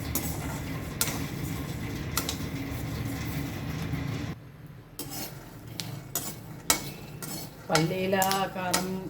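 Peanuts roast in a pan for garlic chili powder, giving a steady faint rattling and sizzle broken by sharp clinks of a utensil scraping and stirring.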